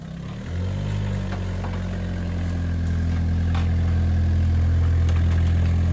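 An Opel Corsa car hitched to a Krone runs with a steady, close engine drone that swells slightly after a moment and holds, without any talking.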